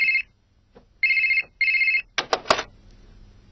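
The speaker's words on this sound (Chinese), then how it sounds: "我这边有电话，一会儿再打给你" A telephone rings indoors in three short electronic bursts, followed by a brief rustle and clatter as the handset is picked up, then quiet.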